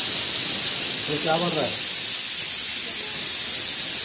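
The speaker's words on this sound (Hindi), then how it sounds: "दूध उबल रहा है" Milk boiling in a pot on a home kitchen stove gives a steady, loud hiss that runs the whole time, with a short stretch of speech over it.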